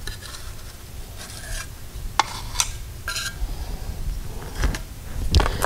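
A utility or spackle knife scrapes Bondo body filler out of its container for repairing a hole in a metal door, several short gritty scrapes and rubs close by with brief pauses.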